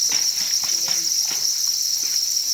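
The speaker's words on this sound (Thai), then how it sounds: "นี่นะครับจิ้งหรีดที่เพาะเลี้ยงไว้นะครับ" Farmed crickets chirp in a steady, dense high-pitched trill that runs throughout, with faint brief sounds underneath.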